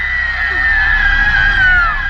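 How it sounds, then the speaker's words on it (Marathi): A woman's loud, sustained, high-pitched scream fills the moment alone, a horror-story effect delivered near and piercing. "ती जोरात किंचाळली"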